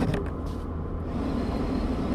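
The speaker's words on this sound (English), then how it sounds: "If you turn up the blower fully" Ventilation blower in a 2002 Citroën Xsara 1.6 turned up to full speed, a steady loud broadband whoosh of rushing air filling the cabin without a break.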